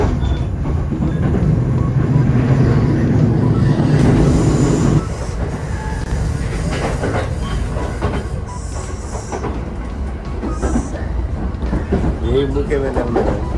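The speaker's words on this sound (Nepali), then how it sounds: "2टा डब्बावाला लोकल ट्रेन है त" A two-car local train in Japan rumbles along with a steady rolling clatter and occasional wheel squeal, heard from on board while people talk quietly.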